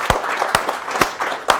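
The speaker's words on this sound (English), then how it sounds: "Round of applause." A few separate hand claps after a talk about IoT and artificial intelligence, spaced roughly half a second apart, crisp and fairly close, with a light hum of room noise between them rather than a full crowd.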